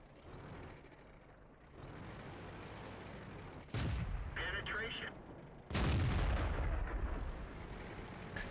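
Two heavy tank cannon shots in a tank video game, each a sudden loud boom with a rolling tail, separated by about two seconds over a rumbling engine drone, with someone talking nearby.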